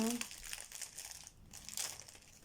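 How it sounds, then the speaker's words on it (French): A sturdy plastic sachet of craft beads being pulled open, with close crinkling and rustling of stiff plastic in short bursts, fairly quiet. "les perles sont présentées comme ceci, dans des jolis sachets assez solides. Si j'arrive à l'ouvrir."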